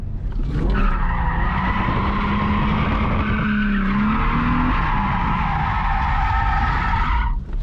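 A stock car drifts at stock steering angle with a sustained, loud tire squeal over a steady engine roar, the screech rising and shifting in pitch before cutting off near the end.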